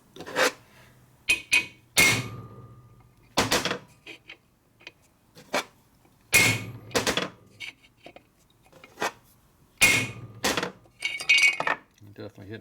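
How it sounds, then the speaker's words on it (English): A hammer strikes a steel bearing race being driven into a Harley-Davidson panhead four-speed transmission case, sharp metallic clangs in irregular bursts of one to three blows, close and loud with quiet pauses between. "The sudden shock of the hammer is what makes the race go down."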